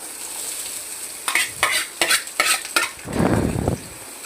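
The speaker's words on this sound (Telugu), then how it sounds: "2 స్పూన్ల ఆయిల్ పోసి ఇక్కడ కట్ చేసి పెట్టుకున్న ఉల్లిపాయ ఇంకా క్యారెట్ అవే ఉన్నాయి నా దగ్గర, అవే వేస్తున్నా" Onion and carrot frying in a couple of spoons of oil for egg fried rice, stirred with a utensil: several sharp scraping clatters of the stirring, then a steady close sizzle of the vegetables in the hot pan.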